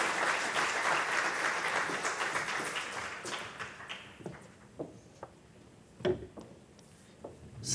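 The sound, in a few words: audience applause for the panel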